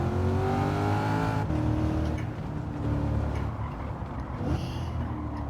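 Chevrolet C8 Corvette engine in Gran Turismo 7, driven on a lap at the Nürburgring, a loud steady revving drone with rising pitch through the gears, dropping briefly at a shift before pulling again.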